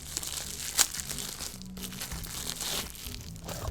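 Plastic packaging around a beauty palette is cut and pulled open, giving close crinkling and tearing sounds with a sharp snip near the start, quiet and without talk.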